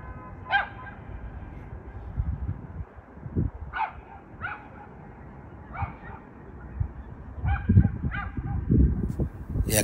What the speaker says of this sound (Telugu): ఎక్కడో అరుస్తున్న కుక్క అరుపు